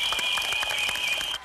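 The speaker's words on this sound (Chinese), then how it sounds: "掌声鼓励。" Brief applause from a studio audience on a 2007 Taiwanese comedy show, a short burst of claps over a steady high tone, cutting off abruptly near the end.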